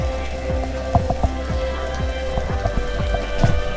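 Steady rain falls on a surface at a dome glamping site, a continuous close patter with repeated individual drips landing in an irregular rhythm.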